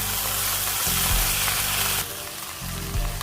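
Three tins of canned tuna sauté in oil for fish cutlets, producing a loud, continuous close-up sizzle with a low steady hum underneath and no voices.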